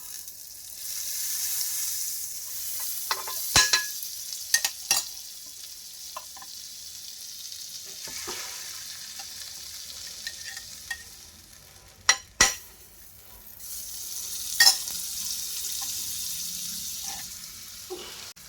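Buttered bread toasts over low heat on a griddle with a soft, steady sizzle, broken by a few sharp clicks and scrapes; no voices.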